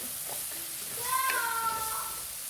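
Tomatoes added to frying onions in a pan and stirred, a steady hiss of sizzling oil with a few scraping stirs, moderately faint and continuous with no talk.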